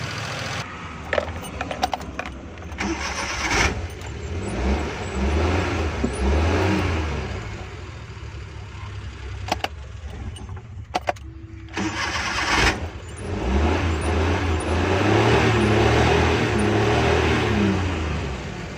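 A Suzuki Ravi motorcycle engine converted to run on CNG turns over and catches, idling roughly with uneven revs, then starts again and runs steadily, close by.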